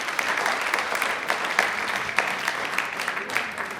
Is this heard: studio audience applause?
yes